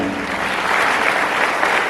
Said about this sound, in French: Est-ce que vous pouvez les applaudir, s'il vous plaît?